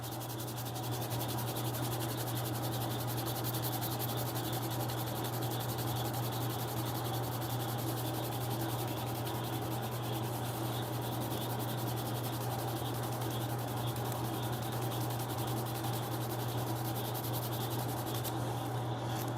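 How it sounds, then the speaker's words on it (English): A leather edge is burnished by rubbing back and forth, a steady dense friction hiss with a low hum underneath, continuous and fairly close throughout. "burnishing is friction, not pressure. And I'm just going to start rubbing it back and forth"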